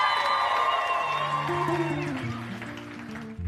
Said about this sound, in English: please put your hands together with a massive round of applause for our national director